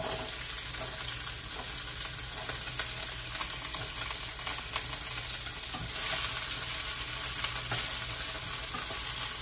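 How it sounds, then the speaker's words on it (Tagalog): Onions sauté in a pan for pancit miki guisado, an even, dense sizzle and crackle holding steady throughout with faint stirring scrapes, close and fairly loud. "Gisa-gisa lang ngayon"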